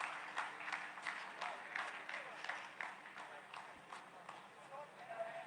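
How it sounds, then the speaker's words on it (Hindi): ISRO scientists applaud in a mission control room after a lunar landing phase completes, a brisk run of rhythmic claps heard a little distant and fairly faint, steady for several seconds. "जी हाँ, आप इस तालियों के गड़गड़ाहट को सुन सकते हैं"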